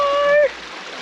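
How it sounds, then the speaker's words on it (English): Someone plunges into a cold creek at dusk with a short, sharp splash, then water slops and churns quietly as it settles. "Get in for a bit of a plunge."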